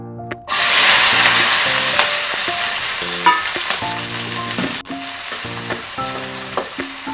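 Chopped capsicum sizzles loudly in hot oil from the moment it drops into the pan, a steady bright fry with clinks and scrapes of stirring scattered throughout.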